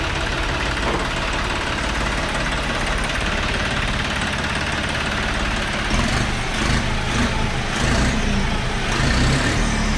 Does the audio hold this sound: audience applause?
no